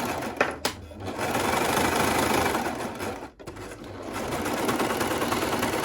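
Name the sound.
overlocker sewing two fabric layers together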